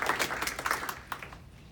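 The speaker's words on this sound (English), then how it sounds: "Big round of applause for yourselves." A science audience gives a round of applause, a dense wash of overlapping claps that fades out toward the end of the short stretch.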